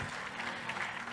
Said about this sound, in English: please clap your hands again for them